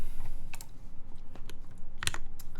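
Keys clack in quick, uneven bursts on a polycarbonate Alice mechanical keyboard, close and clear, with one louder cluster of strokes near the end.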